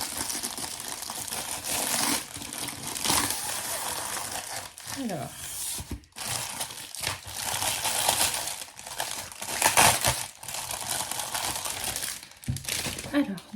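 Transparent wrapping paper crinkles and tears as a canvas painting is unwrapped, a continuous crackling rustle with a brief pause, close up while someone speaks in French over it.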